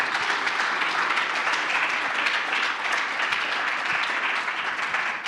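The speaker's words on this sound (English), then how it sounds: "give this panel up here a big round of applause" A conference crowd in Medellin applauding a panel at a Bitcoin event, dense sustained clapping from many hands that holds steady and loud for several seconds before tapering at the very end.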